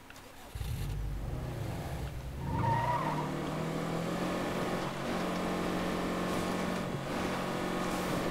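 Video game vehicle riding back to base on a Lethal Zone run: a car engine starts up and settles into a steady driving drone with a brief tire-squeal rise near the start, holding loud and continuous throughout.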